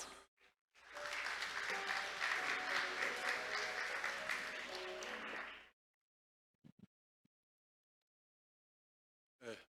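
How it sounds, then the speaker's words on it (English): An audience at a maritime conference event gives a steady round of applause lasting about five seconds, then fades to near silence with a few faint stray sounds and a brief voice at the end. "Let's welcome him with a big round of applause"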